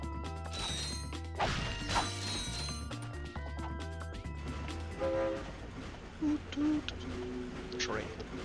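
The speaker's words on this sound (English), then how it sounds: "Train." A train in the 2002 Ratchet & Clank game roars past amid crashing, clanking mechanical game effects and a short horn-like tone, with a player talking over it.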